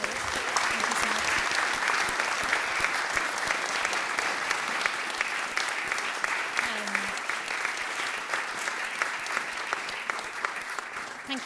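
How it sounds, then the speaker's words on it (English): Lecture audience applauding steadily in a hall, a dense continuous patter of many hands clapping at moderate distance, holding throughout without fading. "I would really like to invite you all to give it a round of applause for your talk."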